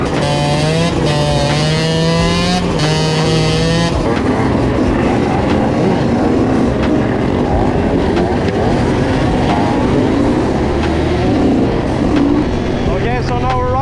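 Motorcycle riding in a group cruise toward Frihamnen in 2025, a steady engine and road rumble running continuously throughout with wind noise, while a voice talks over the start and crowd and traffic sounds mix in.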